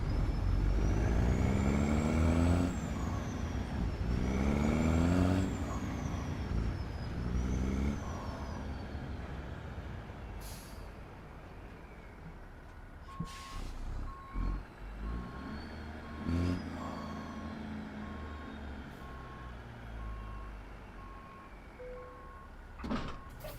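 Western Star day cab truck in American Truck Simulator maneuvering and backing up, with a strong engine rumble and rising revs early on, then a steady run of evenly spaced reversing beeps and a few knocks and clunks.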